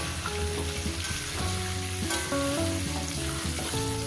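Potatoes frying in a pan for a vegetable and soybean curry give off a steady, close sizzle that fills the whole stretch. Tonal music plays over it throughout, and nobody speaks.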